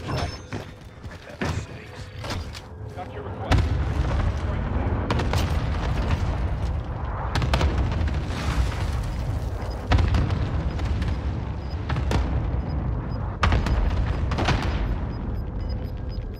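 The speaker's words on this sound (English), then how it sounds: "Position marked. Airstrikes." Airstrike explosions in the video game Warzone on Rebirth Island: a series of deep booming blasts, several heavy impacts arriving a few seconds apart over a sustained low rumble, loud and close.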